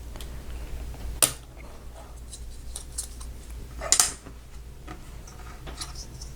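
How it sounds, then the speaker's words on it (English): The spacebar keycap comes off a Leopold FC660C Topre keyboard with two sharp plastic clicks a few seconds apart, close up, amid faint handling noises. "Let's take the spacebar off too."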